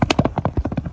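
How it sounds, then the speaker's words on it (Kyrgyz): Hooves of a large horse running beat out a quick, rhythmic clip-clop, close and loud, a rapid run of thudding strikes over about a second. "Мындай чоң аттын чуркагандары кандай болот экен?"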